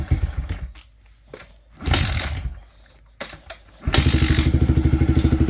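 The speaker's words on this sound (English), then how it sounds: "We're going to start the bike." A Kawasaki KLX motorcycle is started after a few scattered mechanical knocks and revs; its engine catches loudly and settles into a steady, rapid idle thump close by.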